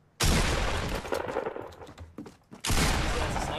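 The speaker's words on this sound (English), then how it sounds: "That's a sniper." Loud sniper rifle shots in a video game, with a sudden sharp blast followed by a rumbling tail, then a second heavy shot near the end, set against busy game noise.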